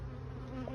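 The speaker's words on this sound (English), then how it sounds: "there's a lot of bees on the front" Bees crowd the front of a beehive, making a dense, steady buzzing hum that holds level without a break through the short moment.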